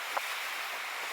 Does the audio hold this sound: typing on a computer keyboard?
no